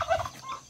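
A brief turkey gobble, a quick warbling burst close by, fading out within a moment.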